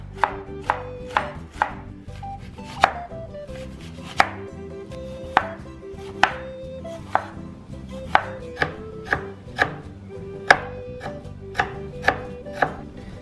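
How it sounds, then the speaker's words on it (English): A knife slicing a halved cabbage thinly on a cutting board, a regular run of crisp chops about two per second, close and clear, with music playing underneath. "The cabbage, and you cut it in half, and then you just want to slice it nice and thin."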